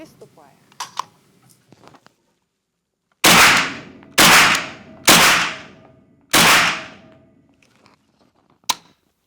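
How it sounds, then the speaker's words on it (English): Four loud, sharp gunshots fired in steady succession at a range while zeroing a Vzor red dot sight, each blast decaying briefly, followed by a lone fifth report; faint handling noises come before the series. "Now I make a series of shots and go to the target."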